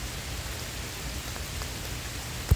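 Rain falling outdoors as a steady, dense patter of drops hitting surfaces, moderately loud and continuous, ending with a single brief thump, with no voices.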